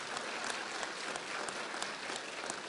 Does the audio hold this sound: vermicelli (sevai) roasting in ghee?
no